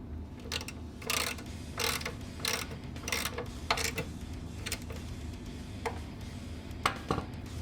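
A ratchet wrench tightens the oil drain plug on a 2015–2020 Ford Mustang GT, with a series of quick, close clicking bursts at an uneven rhythm over a low background hum.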